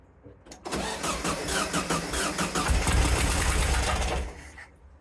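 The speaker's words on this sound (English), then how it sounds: "Did you hear it splutter then when I was testing the spark plug?" The engine of a VW sandrail dune buggy, unused for 18 months, cranks and catches during spark plug testing, running rough and uneven with loud sputtering bursts before dying down near the end.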